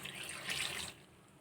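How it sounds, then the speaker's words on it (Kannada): Water poured from a large glass over chopped vegetables in a cooking pot, a short splashing gush lasting about a second, close and fairly soft. "ಇದಕ್ಕೆ ಈಗ ಇದೊಂದು ದೊಡ್ಡ ಗ್ಲಾಸ್ ನೀರು ಹಾಕಿ"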